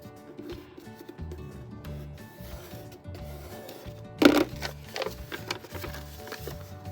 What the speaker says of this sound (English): making our final fold